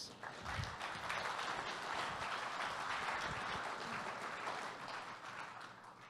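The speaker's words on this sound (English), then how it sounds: "Give that man a round of applause." Audience applause at a live talk or show, a steady wash of many hands clapping that fills the whole stretch at even loudness, with a few brief low thumps and no clear talk over it.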